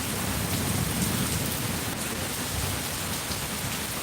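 Steady rain pours down outdoors, a dense, even hiss of drops striking surfaces with a faint low rumble underneath, no voices.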